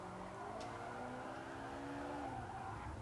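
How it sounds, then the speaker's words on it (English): A race car in GT Sport slides with its rear end stepping out, tires squealing in long wavering tones over a steady engine roar, continuous and close throughout. "I feel the back end of the car sliding out a lot more"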